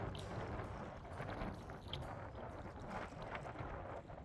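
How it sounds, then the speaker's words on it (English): Morning wind gusting steadily across a canoe trip on the Green River toward Jasper Canyon, a continuous broad rushing roar buffeting the microphone, loud and close, with no speech. "On this morning, we were not so lucky with the wind."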